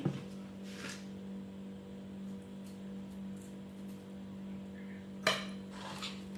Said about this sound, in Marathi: आता ते चमच्याच्या साह्याने व्यवस्थित हलवून घ्यायचे एकत्र